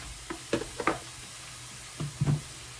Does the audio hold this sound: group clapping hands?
no